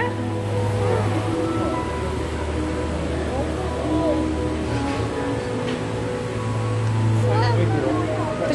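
Sea waves wash against the shore near Toronto in a steady, continuous surf roar, with voices talking over it.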